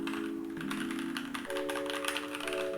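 Someone types on a Keychron K2 v2 mechanical keyboard, producing a rapid, steady patter of close key clicks over a constant background hum.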